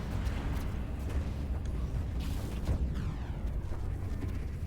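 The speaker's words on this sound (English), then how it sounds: "They're just nuking the space station right now." Rumbling explosion as a space station is nuked in the game Stellaris, a dense, low, sustained roar with a few sharper bursts layered on top, fairly even in loudness throughout.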